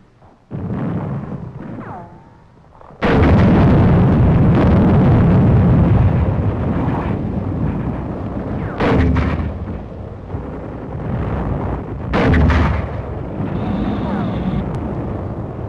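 A military mortar crew fires in a World War II Pacific combat newsreel, heavy booming blasts and rolling explosions rumbling loud and nearly continuous, with sharper reports cutting through at intervals.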